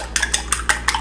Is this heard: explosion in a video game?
no